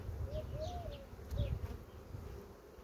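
Honey bees buzz softly around an open hive during an inspection, a faint low drone close by, with a few bird calls in the background.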